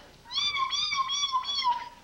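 A parrot on a television talk show imitates a cat's meow: one long, wavering, high-pitched mew of about a second and a half, close and clear over quiet studio background.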